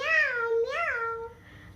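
A small child imitates a cat, giving two drawn-out, rising-and-falling meows in a high, whiny voice, close and fairly soft, the second trailing off into a faint tail.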